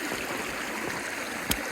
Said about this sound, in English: Got a nice flow on the sluice here.